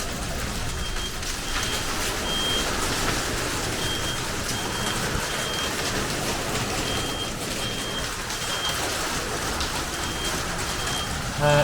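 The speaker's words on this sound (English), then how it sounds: "I'm still getting this alarm going on down here." An alarm aboard a boat beeps in a steady repeating pattern during a storm, faint against a constant wash of rain and wind noise.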